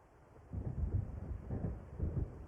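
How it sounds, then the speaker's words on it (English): Low rumbling thunder from an approaching storm in the video game Alan Wake, set by the sea near where Diver's Isle once stood, rolling in several heavy swells after a quiet start, with no talk. "It seems there's a storm coming."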